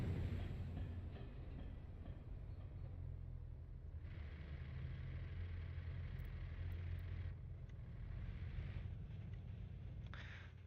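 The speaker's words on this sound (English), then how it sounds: "So our train line is actually working." Trains roll along a rail line in the city-building game Workers & Resources: Soviet Republic, a low steady rumble with a few brighter passing swells, faint and without voices.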